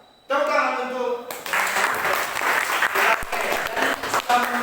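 A classroom of students breaks into applause after a maths lesson on negative exponents, brisk steady clapping filling the room right after a teacher's brief spoken prompt.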